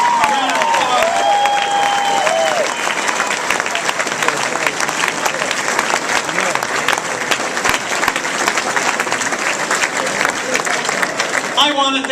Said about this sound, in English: Can we give Governor Markell a round of applause?